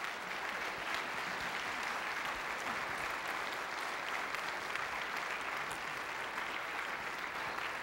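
An audience claps after a lecture on genomic medicine, a dense and steady round of applause that holds evenly throughout with no talking.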